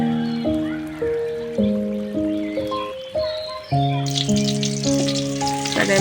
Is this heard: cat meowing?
no